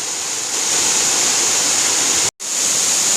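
A monsoon waterfall in the Ayodhya hills, heard close as a loud, constant roar of rushing water that drops out briefly near the end before resuming.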